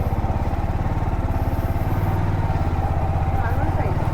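A Yamaha R15 motorcycle engine runs steadily while being ridden, giving a continuous low rumble with a fast regular pulse throughout. Voices talk over the engine.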